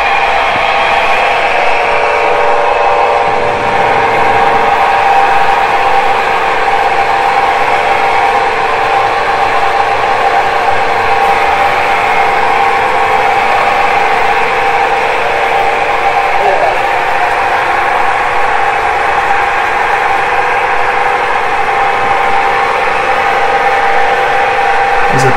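A homemade free-energy generator runs at a high rate with a fan attached, giving a loud, steady mechanical hum and whir that holds unchanged throughout, close and continuous.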